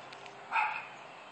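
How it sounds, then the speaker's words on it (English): A single short, faint dog bark rings out from across a backyard fence, distant and brief against a quiet outdoor background. "Or a barking dog across the fence, across the yard."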